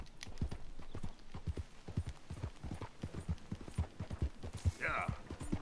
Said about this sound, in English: Got me a racehorse.